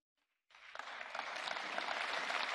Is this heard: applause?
yes